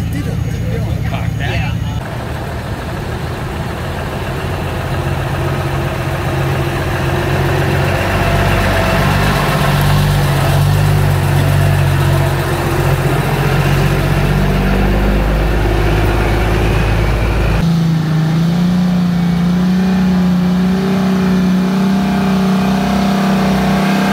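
A loud old truck engine idles roughly and revs up and down, close and continuous, with people talking over it.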